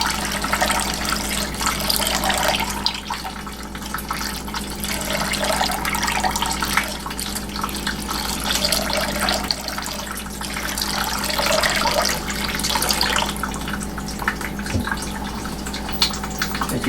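Water poured from a height into a container of leaching California buckeye nut meal, a steady, loud, continuous splashing and rushing pour that runs without a break from start to finish.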